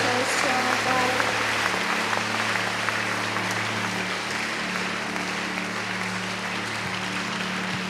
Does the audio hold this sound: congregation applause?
yes